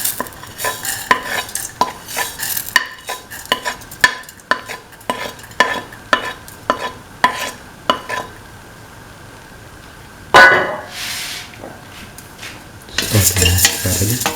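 Repeated scraping strokes of a spoon stirring vermicelli in a pan with coconut milk, close and rhythmic, with light sizzling underneath and a louder clatter near the end.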